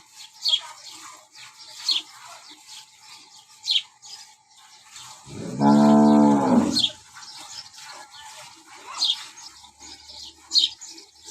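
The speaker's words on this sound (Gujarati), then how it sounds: "આ ગાય ફૂલ હાઇટવાળી છે" A full-height dairy cow gives one long, loud, close moo in the middle, with birds chirping intermittently in the background before and after.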